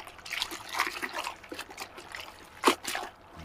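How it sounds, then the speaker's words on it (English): A brand new microfibre drying towel drops into a bucket of water, with soft trickling and light splashing followed by one sharper splash. "So just plonk it in the bucket."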